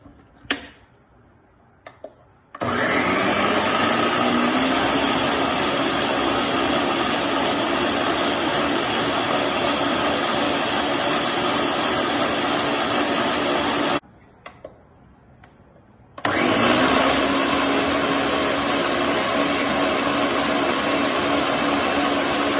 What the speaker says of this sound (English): I've put the pulp that I had left over in the cheesecloth back in my blender